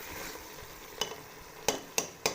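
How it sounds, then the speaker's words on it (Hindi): Ginger stir-frying in ghee for a chicken soup, a soft steady sizzle broken by four sharp clacks of a spoon against the pan toward the end. "इसके अंदर हम ये ऐड कर देंगे और इसकी भुनाई करेंगे बहुत अच्छी तरीके से"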